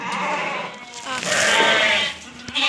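Sheep and lambs bleat loudly and close by in a barn during feeding, several overlapping calls rising in the middle, while people talk nearby.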